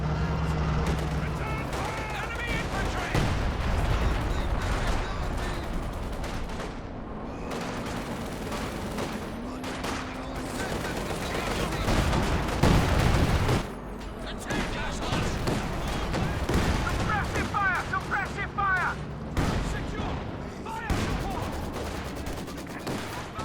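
Maxim machine-gun bursts and Jaeger sniper fire in a Company of Heroes 2 match, a dense, continuous battle din of rattling fire and cracks with a voice talking over it throughout.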